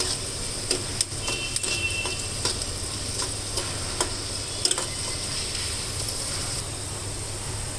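Garlic cloves fry in hot oil until reddish for a garlic chili powder, giving a steady, soft sizzle broken by occasional faint ticks and clinks, with no talking.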